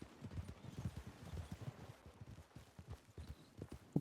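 Horse hooves clip-clopping at a steady walk while riding in the Red Dead video game, quiet rhythmic thuds on dirt with no voices.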